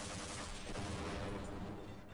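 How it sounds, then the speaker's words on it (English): A mounted machine gun turret fires in Half-Life, giving a dense, continuous roar of rapid gunfire that lasts the whole moment at steady loudness with no talking. "There seems to be a machine gun on there."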